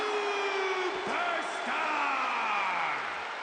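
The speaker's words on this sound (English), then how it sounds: "It's great to hear the crowd give this superstar the reception he deserves" Arena crowd in WWE 2K25 wrestling game roars and whoops in a dense, sustained wash with rising and falling yells, loud and continuous throughout.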